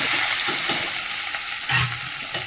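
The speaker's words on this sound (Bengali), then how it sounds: "তেলটা তো গরম হয়ে গেছে, যে তেজপাতা একটা ফোড়ন দিয়ে পেঁয়াজ কুচি দিয়ে দিচ্ছি।" Bay leaf and chopped onion hit hot oil in a pan, giving a steady loud sizzle with stirring scrapes throughout, close up and with no talking.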